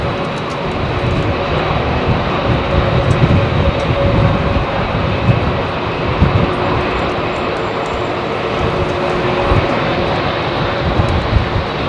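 A heavy jet airliner roars loudly while departing runway 27R at London Heathrow Airport, a sustained, rumbling, broadband engine noise that stays strong and steady throughout.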